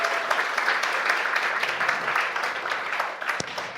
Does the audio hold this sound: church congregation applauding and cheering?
yes